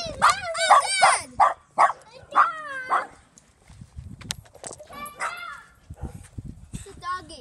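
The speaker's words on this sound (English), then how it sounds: "It's a doggy." A dog barks in a park in a quick run of sharp close barks, then yips and whimpers later amid excited voices of people talking.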